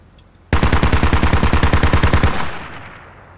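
Sustained automatic gunfire at infantry in the Squad military shooter, one loud close burst of about twenty rapid rounds in an even rhythm, then a short fading echo.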